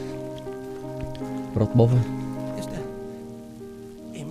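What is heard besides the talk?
rain falling in the video game Valiant Hearts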